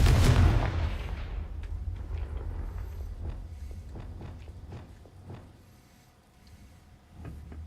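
A fiery blast spell in a magic-themed video game erupts as a loud, close boom that quickly fades, followed by scattered thuds and clatters over a low rumble.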